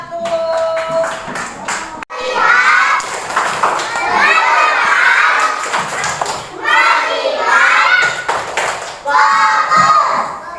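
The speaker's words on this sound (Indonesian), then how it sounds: "Tepuk tangan untuk kelompok 1" Classroom of children claps for group 1, bursts of fast, close hand clapping mixed with excited kids' voices and chatter, rising and falling in several waves.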